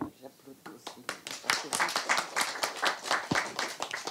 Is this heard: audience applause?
yes